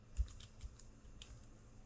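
Bangla text being typed on a computer keyboard, a short run of light key clicks heard close but quietly against faint room noise.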